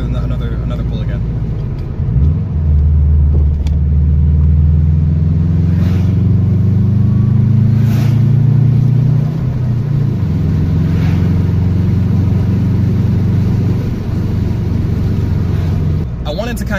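A 2003 car's engine revs hard and accelerates through a pull, a loud close rumble climbing in pitch, dropping after a shift and building again before settling.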